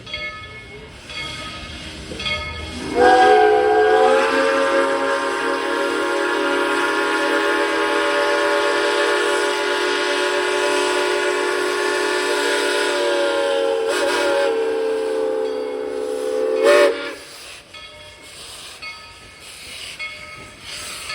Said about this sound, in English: Now that 190 has pulled into the station, it's time for us to take a ride behind this historic steam locomotive.